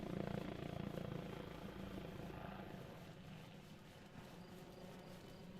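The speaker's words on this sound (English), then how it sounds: "that's an enemy heli" Enemy helicopter in the video game ARMA Reforger, a steady distant rotor drone that stays loud throughout and eases slightly later on.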